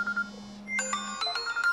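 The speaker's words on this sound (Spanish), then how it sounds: "Están sonando todos los teléfonos." Several phones ring at once indoors, their electronic ringtones overlapping in bright repeated tones, loud and close with no talking.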